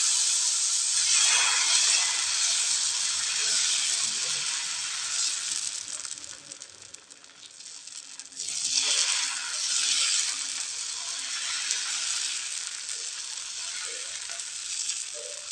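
Rava dosa batter sizzles loudly and steadily on a hot dosa griddle, a bright continuous frying hiss. It dips briefly and then surges again as more batter hits the pan.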